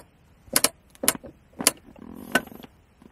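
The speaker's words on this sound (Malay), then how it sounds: "Untuk kita mau tarik brek tangan" A car handbrake is pulled up by hand, giving a few sharp clicks followed by a short burst of ratcheting and a final clunk. It is close and fairly quiet, with no talking.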